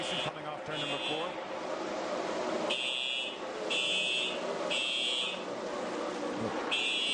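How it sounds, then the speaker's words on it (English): A repeating electronic alarm tone pulses in regular beeps during a 2006 NASCAR Meijer 300 race broadcast, sounding over race commentary and background car noise. "We have some sort of an alarm going off."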